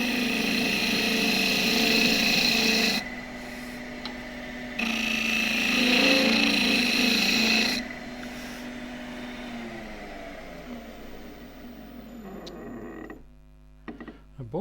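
A 1-inch skew chisel takes a shear cut on spindle work on a wood lathe, a steady whirring hiss of cutting in two bursts over the lathe's motor hum, then the tool lifts away and only the quieter running motor remains.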